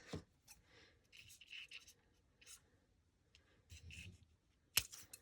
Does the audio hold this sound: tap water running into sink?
no